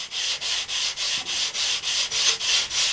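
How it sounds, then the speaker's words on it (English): Sandpaper rubbed back and forth over the top of a wooden wing spar on a model glider build, about ten regular raspy strokes with short pauses between, close and clear, no talking. "just rub the sandpaper across there over the top of the spar"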